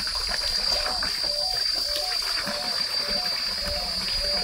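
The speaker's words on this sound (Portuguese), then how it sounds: "água tá vindo do poço, é essa aí?" Well water runs steadily into a cattle drinking trough on a rural farm property, a continuous close trickle and splash under a faint high whine, with no talk.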